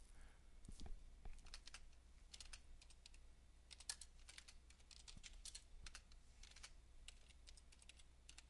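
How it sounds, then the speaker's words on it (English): Typing on a computer keyboard, steady clusters of light key clicks at close range with brief pauses, quiet and without speech. "We'll type out some more gibberish."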